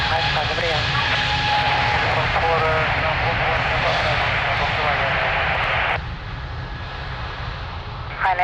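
A jet airplane taking off at Lisbon Airport: a loud, steady engine roar that dominates throughout and drops slightly near the end.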